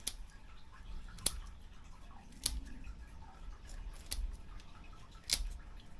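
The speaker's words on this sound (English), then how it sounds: "I'm going to grab my scissors. I'm going to just go through and trim the bottom of this off." Scissors trim the base of an Ice Blue juniper bonsai with five sharp, crisp snips spaced roughly a second apart, close and clear against a quiet background.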